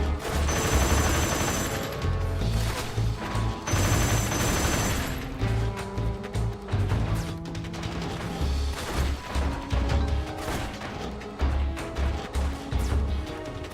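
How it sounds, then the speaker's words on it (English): Gunfire in Metal Gear Solid 3 HD Edition rattles in repeated bursts over a layer of electronic music, with heavy low thuds mixed in. "I can hear gunshots."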